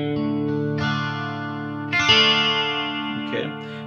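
Electric guitar played through chorus and distortion effects picks part of a riff, sustained shimmering notes with a fresh strum near the middle, close and alone.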